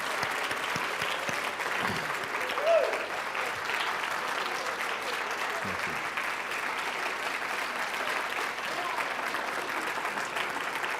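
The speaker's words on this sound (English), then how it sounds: "Another round of applause for John Van Auken, please." Sustained audience applause at the close of a lecture, a dense steady wash of clapping from a large crowd that fills the room and continues without a break.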